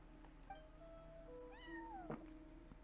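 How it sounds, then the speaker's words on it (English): Meowing from a cat at a front desk in Genshin Impact: a soft short call, then a longer drawn-out meow that slides downward, quiet over a faint steady background hum. "No one except for a cat watching over the front desk."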